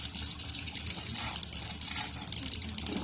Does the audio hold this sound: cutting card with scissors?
no